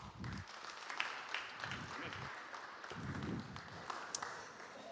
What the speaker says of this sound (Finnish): Isot aplodit Jounille.